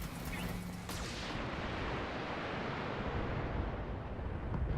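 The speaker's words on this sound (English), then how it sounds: "All the missiles coming in." Incoming missiles strike in the mech game BattleTech, an initial launch followed by a sustained, rumbling wash of impacts and explosions that stays steady throughout.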